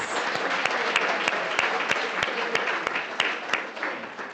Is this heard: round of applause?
yes